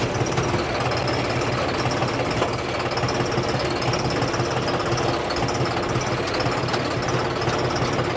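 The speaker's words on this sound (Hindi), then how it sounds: "ट्रैक्टर तो चला जाएगा भाई" A John Deere tractor engine runs steadily while driving, a loud continuous knocking diesel rumble with vibration and no pauses throughout.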